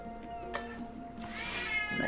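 A cat meows loudly and drawn-out in the background of a Dungeons & Dragons game session, a rising, wavering caterwaul over faint room noise.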